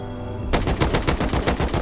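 Rapid automatic AK fire in the video game Rust, a dense burst of evenly spaced loud shots that starts abruptly and continues to the end.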